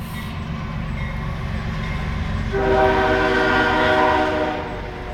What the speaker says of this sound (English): We live by a train track.